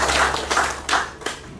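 A church congregation at a worship service claps for Jesus in a few loose bursts of hand claps, near and moderately loud, with some rhythm and no talk over it.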